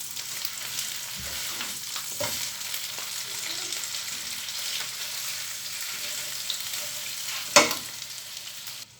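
Chicken thighs fry in a pan on the stove with a steady, close sizzling hiss, broken by a few soft clatters as the pieces are turned and one sharp knock near the end.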